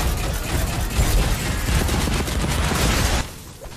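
Sustained, rapid gunfire in the video game Fortnite, a loud continuous clatter of shots that runs for about three seconds before cutting off abruptly into quieter background sound.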